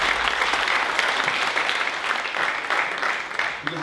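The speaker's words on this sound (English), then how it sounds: "Give yourselves a round of applause just for being here." An audience at a comedy show claps in a dense, sustained burst of applause that stays loud and even for several seconds before thinning at the end.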